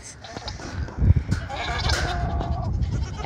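Several goats bleat at a big goat ranch, their calls overlapping in a steady noisy farmyard din with a brief louder burst early on.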